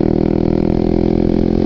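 A Kawasaki ZX6R fitted with a Muscov aftermarket exhaust runs loud and close, with a dense, steady, throaty drone and no break.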